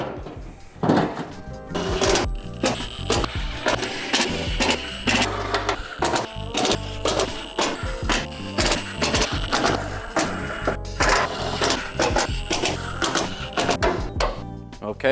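Screws are driven into the frame of a cut-apart GR Supra car in a busy workshop, a long run of dense, rapid, uneven mechanical clatters and whirring bursts, close and loud throughout.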